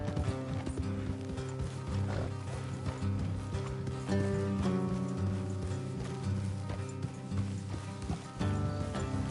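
Horses clip-clopping along a road in the Red Dead Redemption 2 video game, steady overlapping hoofbeats from several riders under a layer of game music and ambience.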